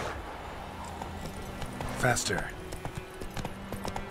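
Horse hooves clip-clopping at a gallop in The Witcher 3, a steady rhythm of soft hoofbeats under game sounds, with someone speaking over it.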